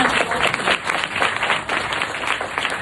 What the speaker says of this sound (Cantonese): 可唔可以俾一個最熱烈嘅掌聲？